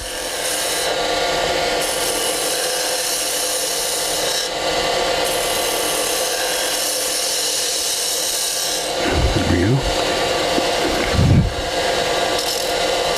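A wood lathe turns a shallow bead as a bevelled gouge cuts the spinning wood, making a loud, continuous rasping scrape up close with a few heavier catches near the end.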